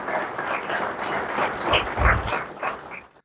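An audience at the City of Taylor State of the City presentation applauds the workers, a dense, steady wash of clapping that swells near the two-second mark and then breaks off abruptly.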